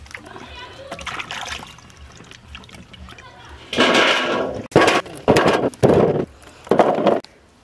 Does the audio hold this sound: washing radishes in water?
yes